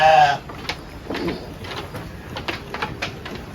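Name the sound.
sheep bleating while eating silage feed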